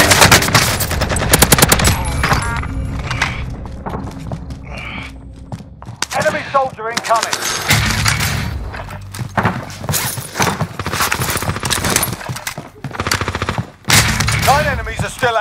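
Gunfire in the video game Call of Duty Warzone on Rebirth Island, loud close bursts of automatic fire and single shots with game sound effects and a brief voice callout in between.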